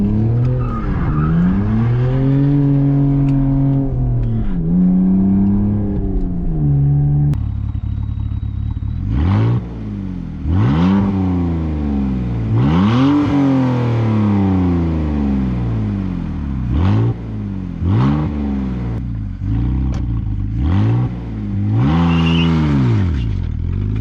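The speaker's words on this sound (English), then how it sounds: "Very half-assed burnout attempt." BMW E46 drift car revving hard during a half-hearted burnout attempt, engine rising and falling in repeated loud sweeps with tire squeal and skidding, close by.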